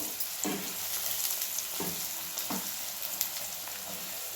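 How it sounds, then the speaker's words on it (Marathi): Onion and tomato fry steadily in a hot pan for a Marathi farsan bhaji, a close continuous sizzle broken by a few soft scraping stirs, with no voices. "बघा भाजलाय चांगला कांदा आणि टोमॅटो"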